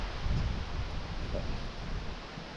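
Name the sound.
breeze blowing through an open workshop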